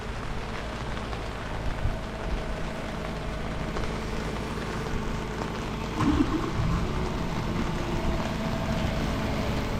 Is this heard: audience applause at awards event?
no